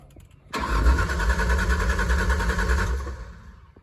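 A Ford Ranger 4x4 engine cranking, a loud close rhythmic churn of the starter that runs for about two and a half seconds without catching, then fades off.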